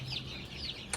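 Chickens cluck faintly near their coop on a cold, rainy afternoon, a few soft, scattered calls at some distance.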